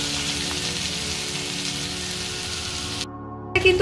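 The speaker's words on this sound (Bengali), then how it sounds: "এবারে পেঁয়াজগুলোকে ভেজে নেব" Onions fry gently in mustard oil over a lowered flame, a soft, steady, rain-like sizzle close by that cuts out abruptly near the end before a short burst of other noise.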